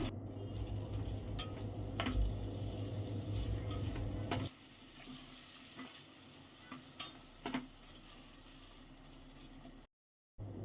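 Chopped tomatoes with curry leaves and mint cook in a pan, giving a soft steady sizzle and a few light stirring clicks, fading quieter midway before a brief gap of silence.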